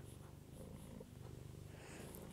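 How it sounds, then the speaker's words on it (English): A cat purrs close by during a quiet crochet session, a faint but continuous low rhythmic rumble heard on its own. "You can hear purring."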